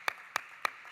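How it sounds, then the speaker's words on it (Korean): Three crisp hand claps, evenly spaced and quite faint, ring out in a church service. "우리 하나님께 영광의 박수 올려드리겠습니다."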